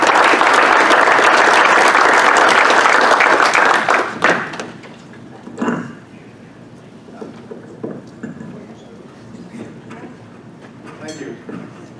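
Audience at an award dinner applauding loudly as a United Methodist pastor comes up; the applause fades after about four seconds into scattered claps, thumps and light room noise.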